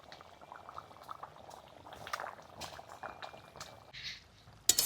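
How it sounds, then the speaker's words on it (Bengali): Tilapia fish curry with taro bubbling in a pan, a soft continuous boil with scattered small pops and liquid splashes, fairly quiet with a brief sharp knock at the end. "ঝোলটা ফুটে গেছে"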